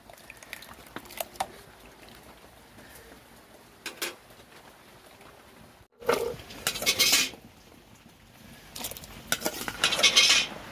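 Rice and vegetables go into a cooking pot over a wood-fired stove for khichuri: scattered clinks and scrapes of metal utensils and pot, then louder rattling pours and stirring bursts, close by.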